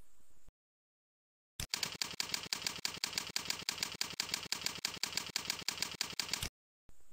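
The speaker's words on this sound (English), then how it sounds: "Type a description." Rapid typing on a computer keyboard, a dense, even run of close clicking keystrokes that goes on for several seconds between quiet gaps.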